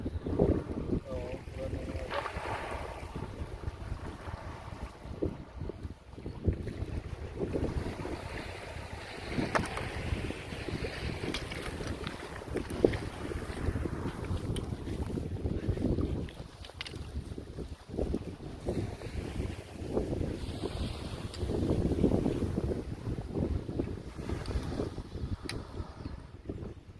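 Wind gusts over a small boat at sea, a low, uneven rumble of buffeting air against the microphone mixed with water movement, with scattered faint talk.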